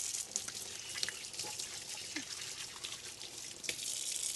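Water runs steadily from a tap into a sink, a continuous splashing hiss with small spattering bursts.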